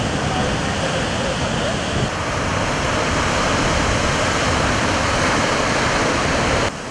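Heavy waves crash steadily on a Black Sea shore near the Sakarya river mouth after excessive rains, washing driftwood ashore; a loud, continuous roar of surf fills the whole stretch.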